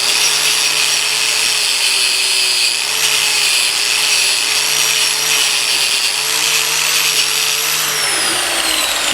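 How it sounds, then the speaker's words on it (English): A stainless steel wire brush scrubs corroded aluminum around a bolt, giving a loud, steady, continuous abrasive rasp at close range that holds without a break, with no voices. "that's why we're using a stainless steel brush. Now all I'm going to do is just clean around this area right here."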